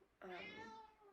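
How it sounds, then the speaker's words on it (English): A house cat lets out a single clear meow, close and fairly loud, rising then trailing off over a quiet kitchen background. "that's my cat"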